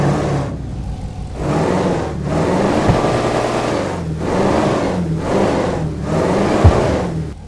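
The Vapid Clique's exhaust in GTA 5 revs in about five loud, close bursts, each throaty surge separated by a short drop in sound.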